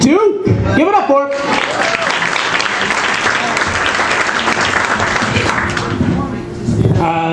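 Comedy club audience at the Funny Stop bursts into sustained, loud applause after a comedian named Dwayne Duke leaves the stage, dense clapping filling the room with a voice heard over it near the start and end.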